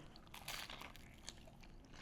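A crisp, close crunch of teeth biting into a fried cheese ball dipped in marinara, a burst of crackling followed by a few quieter chewing crunches, with no talk.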